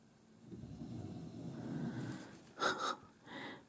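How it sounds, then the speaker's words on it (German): A pet dog sleeps after eating, snorting and wheezing with gasping breaths; a low rumbling stretch builds, then two sharp snorts follow, close by with no talking. "Das, was da so schnarcht, ist unser Hund."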